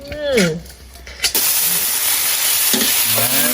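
Shrimp dry-roasted in a pan: a loud continuous sizzle and hiss after a brief clatter, with voices talking at the start and near the end.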